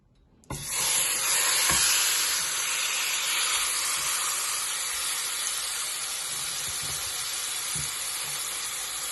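Chicken tikka hits hot oil in a pan on medium flame. After a brief quiet, a sudden loud burst of sizzling settles into a strong, continuous spitting hiss with an occasional soft clink.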